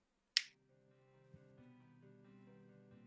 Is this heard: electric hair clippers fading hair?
no